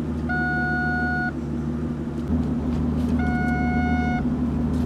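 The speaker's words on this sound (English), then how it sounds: "Every time you put the car in reverse, it dings at you to let you know that you're in reverse." An Aston Martin Vanquish's reverse-gear warning chime sounds twice, each a sustained electronic tone lasting about a second, over the low rumble of the idling engine inside the car.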